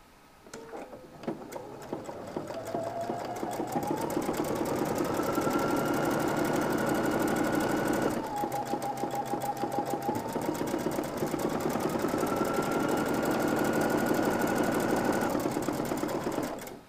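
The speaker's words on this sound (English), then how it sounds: "Use the buttonhole attachment for your sewing machine if you have one." A sewing machine with a buttonhole attachment stitches buttonholes in a shirt front, giving a fast, even mechanical whir that rises in pitch, dips briefly, then climbs again, steady and close with no talking.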